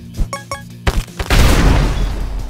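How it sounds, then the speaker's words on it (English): Blue Shell's explosion in the video game Epic Battle Fantasy 5: a few short electronic blips and pops give way to a loud, booming blast that rumbles and slowly fades, with no voices. "Blue Shell's explosion"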